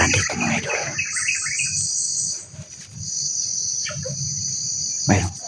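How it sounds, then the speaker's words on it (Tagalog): Night crickets chirp steadily while a bird gives a few short calls in the background, outdoors in a dark Philippine rural area, with a louder burst near the end. "Mayroon po isang ibon."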